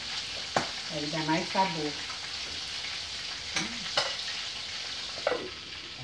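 Chopped onion frying and softening to golden in a pan sizzles steadily up close, with a few scrapes of stirring and someone talking briefly over it.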